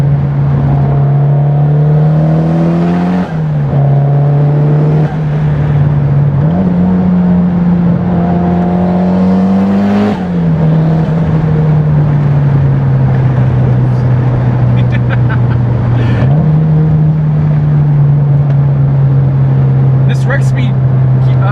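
Engine drone from a modified Mitsubishi Lancer Evolution X GSR making around 500 wheel horsepower, held at a steady loud hum with several rises in pitch as revs climb and fall, heard from inside while people talk over it.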